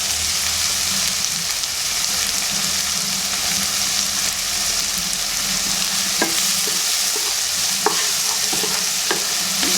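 Onions for beef fry sauté in a pan with a loud, dense, steady sizzle, and a spatula stirring brings occasional scrapes and clicks in the later seconds.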